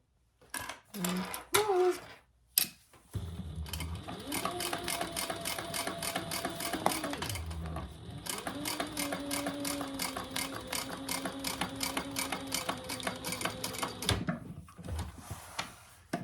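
Close by, a sewing machine runs a steady, rapid stitching rhythm through a row for several seconds, pauses briefly, then carries on, with a few handling clicks before and after.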